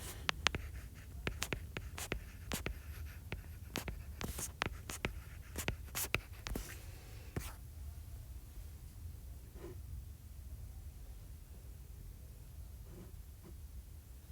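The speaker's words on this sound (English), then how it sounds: "Let's just write that in before we move on." A pen writes on paper with a run of quick scratchy strokes over the first seven seconds, close and moderately quiet, then gives way to faint room hiss with a couple of small taps.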